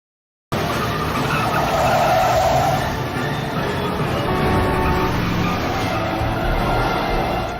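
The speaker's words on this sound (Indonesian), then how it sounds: "Frank bahkan sampai nekat berkendara ugal-ugalan demi bisa mengejar Peter dan menyelamatkan anaknya" Car tires skid and squeal loudly and steadily during a reckless road chase, with engine roar underneath, starting abruptly and holding for about seven seconds.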